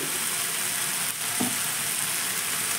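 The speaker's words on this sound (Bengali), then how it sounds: "এইভাবে একটু নাড়াচাড়া করে জলটা শুকিয়ে নেব" Chicken fries uncovered in a pan, letting its released water cook off with a continuous close sizzle and a brief stir partway through.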